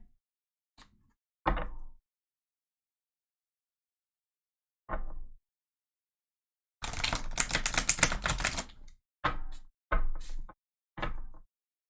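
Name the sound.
shuffling a deck of tarot cards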